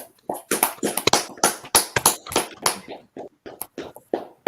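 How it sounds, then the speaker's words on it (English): A class claps for Officer Zabadia, with a dozen or so sharp, uneven hand claps close by, each one loud and separate, thinning out toward the end. "Let's clap it up for Officer Zabadia"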